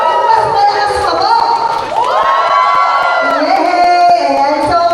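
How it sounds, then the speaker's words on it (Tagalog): A family reunion crowd of adults and children cheers and shouts loudly, sustained whoops and yells rising and falling over scattered clapping, close and energetic for about five seconds. "palakpakan muna tayo na may kasamang hiyawan!"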